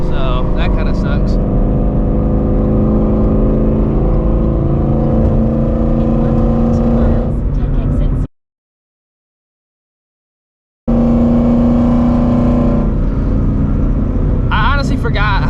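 A straight-piped Shelby GT350 pulls hard under acceleration, a loud droning exhaust note heard from inside the car that drops out briefly midway, with a voice talking over it.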